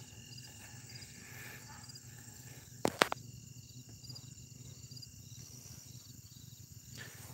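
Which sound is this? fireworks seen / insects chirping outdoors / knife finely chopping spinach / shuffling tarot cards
insects chirping outdoors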